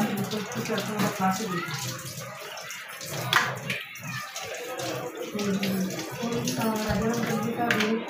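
Tap water runs steadily into a sink while cleaned crabs are washed, a close, continuous splashing flow with someone talking over it.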